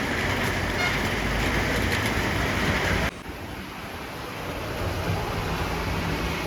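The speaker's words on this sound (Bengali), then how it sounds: "এই দেখো বৃষ্টি" Heavy rain and strong wind outdoors, with water flooding the street into a fast current and soaking balcony plants; a steady, loud broadband roar of rain throughout, briefly dipping midway before building again, with no talk.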